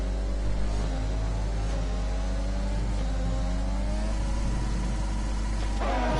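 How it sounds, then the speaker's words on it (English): Formula car in a racing video game caught in a rev glitch, its engine holding a steady, sustained mid-pitched drone with shifting harmonics, closing with a brief rising surge near the end; no talking. "So we got the rev glitch for Aaron."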